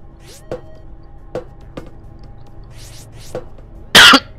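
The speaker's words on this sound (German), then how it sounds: "Keine Ahnung, woher mein Husten kommt." A person coughs and clears the throat in a few short, sharp bursts, ending with one loud, harsh cough near the microphone.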